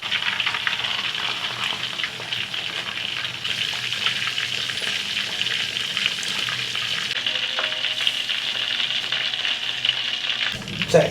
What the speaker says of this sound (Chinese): 炸全鸡